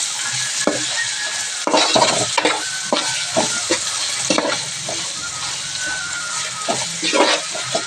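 Brinjal pieces frying with ginger garlic paste in a pan, a steady sizzle throughout with repeated scraping stir strokes close by, no talk.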